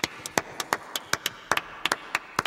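Sparse clapping from a small crowd at a drum clinic, a handful of sharp, separate hand claps in an uneven rhythm, close and clear with no talking.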